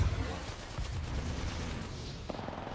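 Rapid gunfire from shooting platforms in a video game crackles in dense overlapping bursts, loud at first and then steadier, with a sharper single report near the end.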